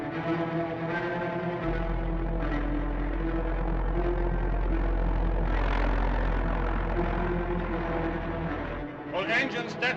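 Airship engines running at full power, a steady loud droning hum with a deep rumble and harmonic whine, continuous under spoken voices, easing off near the end.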